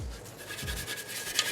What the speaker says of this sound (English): What I'm going to use to scuff the surface is red Scotchbrite pad.